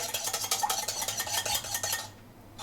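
A whisk or spoon clinks rhythmically against a bowl while stirring a vinaigrette of sunflower and rapeseed oil, a quick steady scraping-and-tapping pattern that stops abruptly near the end.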